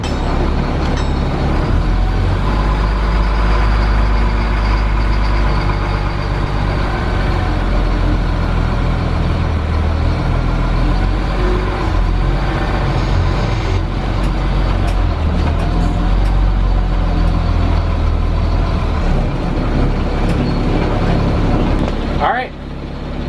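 A skoolie converted school bus drives up and around a corner in Madison, Wisconsin, its engine droning steadily and loudly for over twenty seconds, with someone talking intermittently over the rumble.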